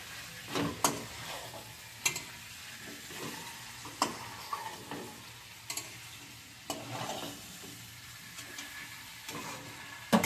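Chicken cooks slowly in a pan over a low flame, giving a soft, steady sizzle broken by occasional scraping stirs and light clinks at irregular intervals.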